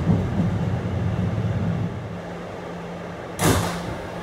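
An R211 subway shuttle train runs between Rockaway Park and Rockaway Boulevard, a steady low rumble and hum heard from inside the car, with a brief sharp hiss or thump near the end; no talk.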